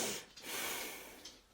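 A person imitates forced breathing through a hyperbaric chamber mask: loud, rasping, effortful breaths with sharp intakes, a couple of distinct pulls and pushes of air heard close and alone.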